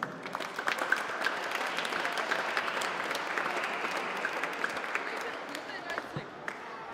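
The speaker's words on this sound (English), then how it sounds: "we have a great round of applause to our finalist, Jonas Körner, once again," Crowd at a youth bouldering competition award ceremony gives a moderate round of applause for a finalist, a steady patter of individual claps with a voice talking over it and fading toward the end.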